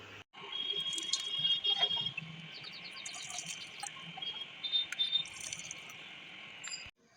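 Melted jaggery poured through a strainer into a bowl, a steady trickling liquid sound with faint drips, running for about six seconds before stopping abruptly, alone without talk.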